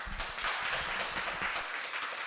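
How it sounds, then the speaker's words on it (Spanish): Audience applause closing a Spanish-language lecture, a dense, steady patter of many hands clapping at close range for just over two seconds with no talking. "te damos un aplauso y terminamos"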